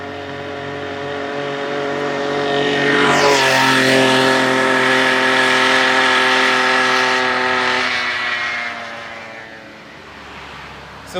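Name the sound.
Golden Eagle pedal assist engine on Cannondale Badboy bike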